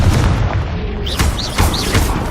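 A Confringo fire spell bursts in the video game Hogwarts Legacy, loud booming impacts with whooshing swirls, a couple of blasts in quick succession.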